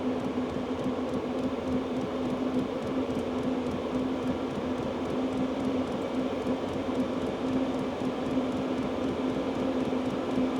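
A portable heater running on heat setting H10 gives a steady, even whirring hum with a clear constant tone, recorded close on a tabletop, with no talking.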